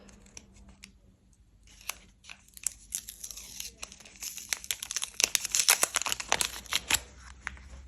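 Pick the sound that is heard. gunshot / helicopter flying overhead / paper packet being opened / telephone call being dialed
paper packet being opened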